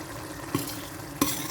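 Crayfish sizzles as it fries in hot oil with a constant crackling hiss, and a utensil stirs the pan twice.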